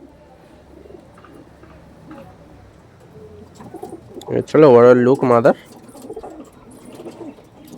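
A pigeon lets out a loud, close, rolling coo burst midway, framed by softer cooing and bird sounds, while someone speaks briefly nearby.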